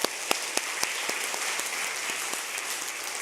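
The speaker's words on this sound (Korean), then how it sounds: "이 가정을 위해서 한번 축복의 박수 한번 해주실까요?" A Korean church congregation at a Sunday service applauds to bless a family's newborn first daughter, a continuous wash of clapping with a few sharper individual claps standing out near the start, moderately distant and even.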